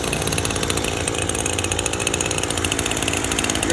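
A gas weed trimmer's small two-stroke engine runs after starting with its choke off, giving a loud, close, steady buzzing drone with a fast rhythmic pulse and no voices.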